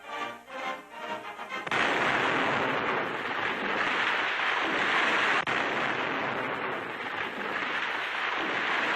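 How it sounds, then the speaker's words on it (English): Explosive blasting clears a path for a military highway through jungle wilderness: an abrupt loud roar bursts in after a quieter start and rumbles on steadily, with one brief sharp crack partway through. "they're blasting a path through a wilderness never before conquered by man"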